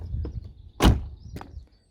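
A Mercedes-Benz CL500 V8 door locking via its keyless button gives one solid thunk near the middle, followed by a fainter click, close by with low background rumble.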